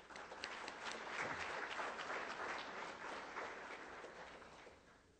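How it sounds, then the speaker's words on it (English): An audience claps at a financial seminar in Riyadh, a full, even roll of many hands from a seated crowd, building quickly and holding steady before easing off slightly, fairly quiet overall. "I request the House to have a big round of applause for their success."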